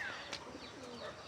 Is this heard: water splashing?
no